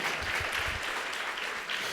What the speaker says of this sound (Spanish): Dale un aplauso, sí, al Señor.